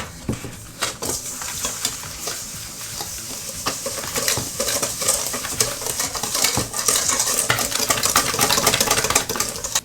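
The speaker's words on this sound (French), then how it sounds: "Voilà, donc 240 g de sucre. On vient mélanger." Brown sugar being stirred into a doubled batch of cookie dough, a steady scraping and mixing texture with frequent soft clicks of the utensil against the bowl, close and continuous for about ten seconds with no voices.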